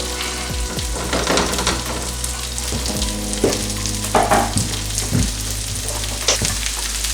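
Mushrooms fry in a hot pan with a loud, steady sizzle, broken by scraping stirs and a few sharp pops throughout. No one speaks.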